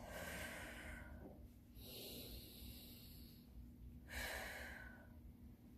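Slow, audible breaths during a yoga session: a long inhale, a pause, then another drawn breath, close and alone with no talking.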